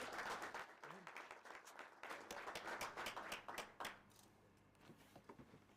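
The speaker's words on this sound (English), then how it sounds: "Can you clap for him?" Audience at a Multimedia University of Kenya graduation ceremony claps steadily for the valedictorian, a dense burst of applause that thins to scattered claps toward the end.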